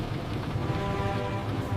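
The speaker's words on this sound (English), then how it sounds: "The rain sounds very loud on the roof." Rain from a little summer storm drums steadily on a car roof, a soft continuous hiss with no distinct drops and nobody speaking.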